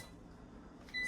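A single short electronic beep from an air fryer near the end, sounding after a quiet hum of background noise.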